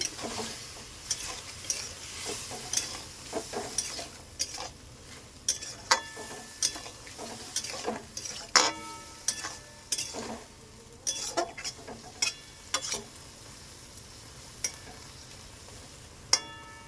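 Boiled chickpeas stirred in a frying pan with water, repeated sharp clinks and scrapes of a metal spoon against the pan at an uneven rhythm over a faint background sizzle.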